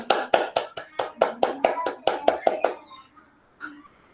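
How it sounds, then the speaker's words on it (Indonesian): A class of children applauds a classmate with about a dozen loud, evenly spaced claps in unison, then a pause and one last stray clap. "Kita beri aplaus dulu sama temanmu"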